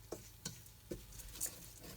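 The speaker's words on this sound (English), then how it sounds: "I'm going to add the oats and keep stirring them a little bit" Oats frying in butter in a pan crackle and patter softly as they are stirred, with a few quiet scraping taps of the spoon spaced through a faint, close sizzle.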